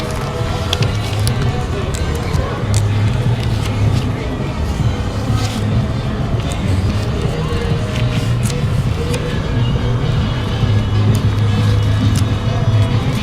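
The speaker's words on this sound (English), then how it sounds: "there's the Rocket Town car." The Rocket Town car rolls along in the 2019 Flower Festival parade in Montauk. Its steady rumble blends with constant loud street and crowd noise for the whole stretch.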